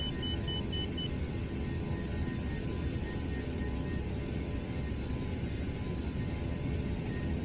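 Simulated Airbus A319 engines in the Toliss flight simulator holding a steady, loud broadband roar at takeoff thrust, with a brief high beep near the start and no talking.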